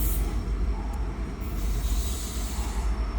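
A big freight train slows as it passes, a steady rolling rumble with a faint wheel squeal and a thin, high tone over the noise. The train sounds moderately near.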